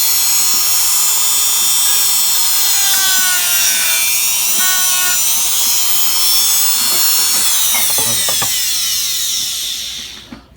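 A high-pitched power tool grinds steadily while trimming a plastic console box in a car, whining loud and close with shifting pitch before it winds down at the end.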